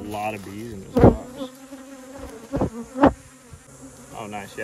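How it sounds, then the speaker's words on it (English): Honey bees buzz in a crowded swarm trap box while it is opened and transferred. A close, wavering hum is broken by a few sharp thumps of handling. "There are just a lot of bees in this box."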